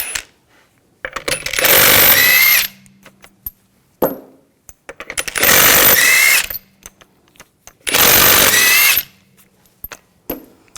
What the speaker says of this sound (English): We're going to remove the wheel, use a 19mm socket. Take the lug bolts off.